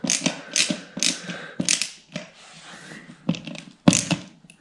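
Screws being driven by hand into an Ikea Malm chest drawer, a close run of ratcheting clicks and creaks in short uneven bursts.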